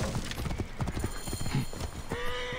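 Horse hooves clop in a quick, uneven rhythm in Assassin's Creed Origins, close and loud, with a horse's whinny near the end.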